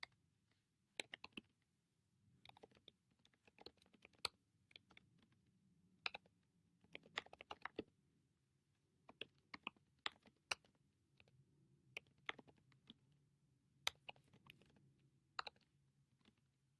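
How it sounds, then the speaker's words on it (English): Quiet, close computer keyboard typing in irregular bursts of sharp clicks separated by short pauses, soft background hum beneath, no speech. "I'm actually typing some of my qualities in here"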